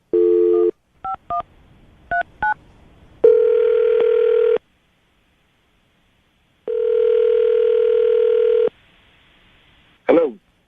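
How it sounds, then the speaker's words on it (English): A telephone is dialed during a radio show call: short bursts of keypad tones, then two long ringback tones separated by silence, and a brief click at the end when the line picks up. "I'm going to dial the phone number right now, see if we can get David on the phone"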